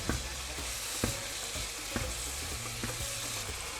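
Minced meat and onion for lasagna sizzle steadily in a pan, with a sharp utensil scrape or tap roughly every second over the constant frying hiss, no voices.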